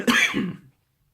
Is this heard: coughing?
yes